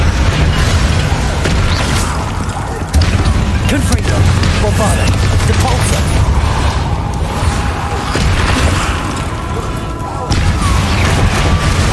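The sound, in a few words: Bombarda explosion spell blasts in Hogwarts Legacy video game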